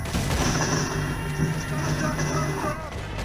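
Rapid gunfire rattles through a gunfight at the O'Driscoll hideout in a video game, a dense, continuous barrage of shots layered with booms and rumble across the whole stretch.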